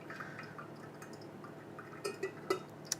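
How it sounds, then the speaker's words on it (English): Hot water is poured over coffee grounds in a V60 pour-over brewer, a faint, steady trickle with a few soft drips and light clinks near the end, quiet and close, with nobody talking. "I'm just going to keep pouring, pour a little bit more"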